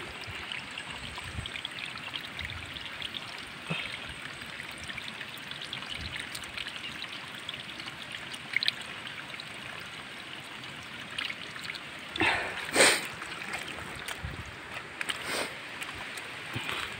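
Water flows steadily in a constant, close, rushing wash that runs the whole time, with a few brief splashy bursts near the end.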